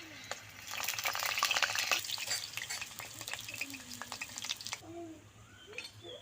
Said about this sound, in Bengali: এবার তেলের মধ্যে দিয়ে দিচ্ছি বেগুনগুলো লাইন করে বসিয়ে দেবো।